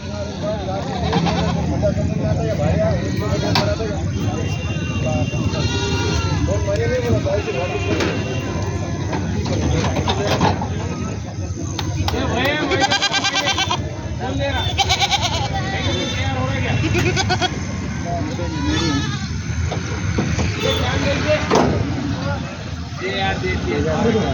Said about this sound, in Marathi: शेळ्या घेऊन बकरी घेऊन आलेले आहेत